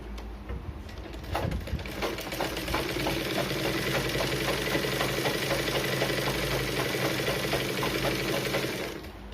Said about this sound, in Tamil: இனி 1/4 இன்ச்சுக்கு ஒரு தையல் போடலாம்